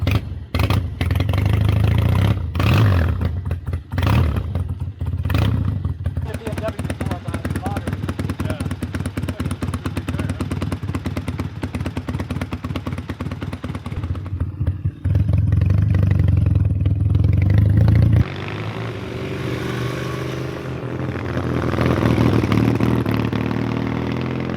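A motorcycle engine runs near and loud, idling with rough, clattery pulses and a few revs, while people talk over it; the tone shifts partway through as the engine settles.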